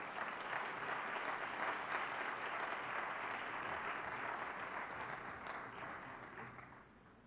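An audience at a Georgetown University forum panel applauds steadily, dense clapping that holds for several seconds and then gradually fades.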